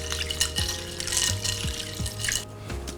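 Blanched green beans tumble into an ice water bath, giving a steady close splashing and sloshing of water with repeated small plops, with no one speaking.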